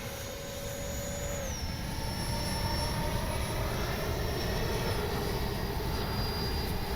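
Freewing 64mm JL-10/L-15 RC jet flying past at full speed, a steady ducted-fan whine and roar with a faint pitch shift, continuous and moderately distant.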